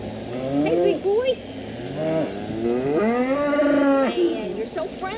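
A new bull in a pasture moos repeatedly in long, loud, close calls, with a voice occasionally in between.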